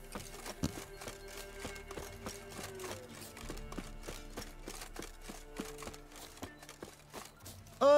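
Horse hooves clatter in a horse race in The Witcher 3 video game, a brisk, even clip-clop rhythm running steadily close up, with some heavier thuds and a brief loud burst at the end.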